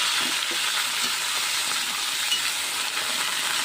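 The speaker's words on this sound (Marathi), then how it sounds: "याच्यामध्ये आलू आणि एक टोमॅटो चिरलेला टाकणार आहे तेही कलसून घ्यायचं आहे" Diced potato and tomato with green chillies frying in hot oil for a fasting dish, a soft steady sizzle and hiss with faint scraping of a spoon stirring the pan, no voices.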